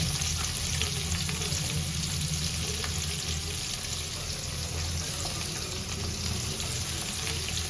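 Small onions sauté in a pan for a dry fish curry, giving a loud, steady sizzle and fry with occasional stirring scrapes, close up and continuous, with no voices.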